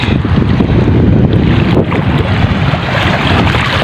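A loud ocean wave surges and rushes close by on a shore at dusk, reaching above waist height, with heavy wind buffeting the microphone and no voices.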